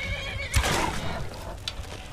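A horse whinnies loudly in a video game, a sharp rising neigh that trails off, with faint clip-clop hoofbeats and game effects around it.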